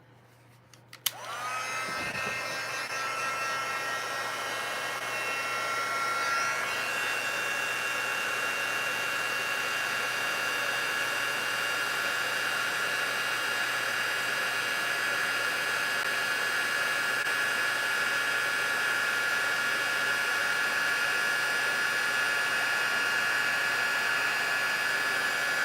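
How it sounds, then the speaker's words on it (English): A heat tool blowing hot air to melt embossing powder, switching on with a click and then running as a loud, steady, close whirring hiss that holds unbroken for over twenty seconds, with no voices. "Now I'm going to grab my heat tool."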